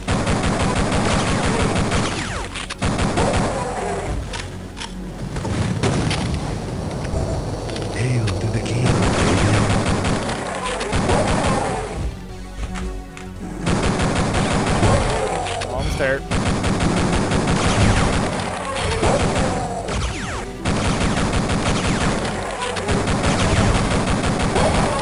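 Shotgun blasts and rocket launcher fire in the video game Duke Nukem 3D, a continuous din of shots and booms with game effects throughout.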